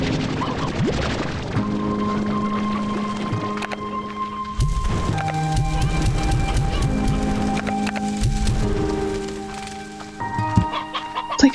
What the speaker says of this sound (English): There are thunderclock hens again.